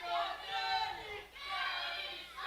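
A crowd at a professional wrestling championship match in a factory venue murmurs and shouts in waves, moderately loud, swelling and dipping across the moment.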